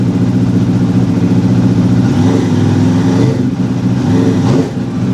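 A motorcycle with a non-standard end-cap exhaust runs close by with a deep, steady, throbbing engine note that swells slightly as it is revved, then holds.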